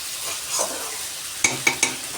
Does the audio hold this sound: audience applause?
no